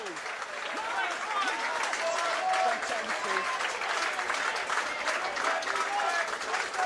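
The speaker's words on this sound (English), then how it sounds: "Rich applause for their first efforts." Rugby league crowd at a Championship match, Featherstone v Halifax, applauding substitutes coming on, a broad sustained wash of clapping from a large stadium crowd with faint shouts, steady throughout.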